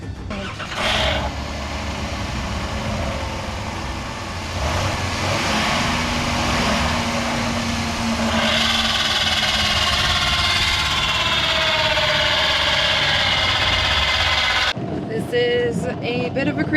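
Minivan engine running rough after running out of oil, a continuous loud drone with wind buffeting the microphone, ending in a sudden cutoff and a few clunks.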